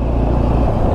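A two-wheeler engine drones steadily on a hill road in Goa, with a loud, continuous low rumble mixed with road and wind noise. No one speaks.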